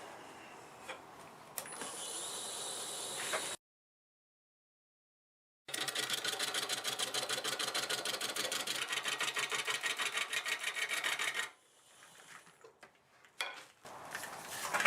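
A wood lathe turns a redwood crotch bowl with a fast, rhythmic pulsing drone as the tool cuts for several seconds. Quieter scraping and handling noises follow, then the motor spins back up.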